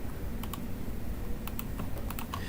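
Someone types on a computer keyboard during CAD software work, a few quick close key taps in small bursts over a steady faint background hum, with no talking.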